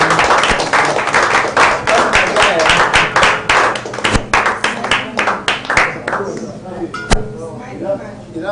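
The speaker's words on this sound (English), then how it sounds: "Clap for me, man." Clapping at a live-streamed event on stage, sharp irregular claps from a small group, loud and close, thinning out toward the end, with voices mixed in.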